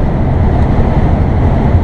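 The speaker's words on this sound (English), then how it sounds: "But we're cruising along at 62, 63, according to GPS, according to Elf Boy." RV motorhome cruising on the highway at about 62 to 63 mph after repairs, a loud, steady low road rumble and engine drone filling the cabin without a break, with no talk.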